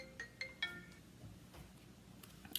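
A phone rings faintly for an incoming call, giving a few short, bright tones near the start, followed by quieter clinks and room noise.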